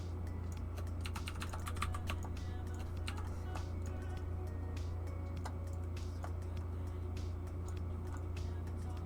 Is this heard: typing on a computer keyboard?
yes